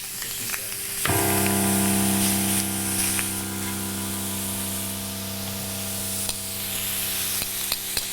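Thin skirt steak hits a very hot grill with a sudden loud sizzle that settles into a steady, close frying hiss, with occasional pops and crackles.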